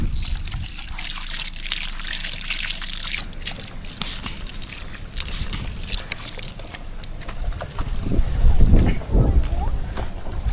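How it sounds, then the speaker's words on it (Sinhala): Cool stream water running across a slippery mountain road, a continuous near trickle and gurgle with sloshing that swells toward the end, with faint voices in the background. "සිසිල් වතුර ටිකක් උඩින් ගලාගෙන යනවා."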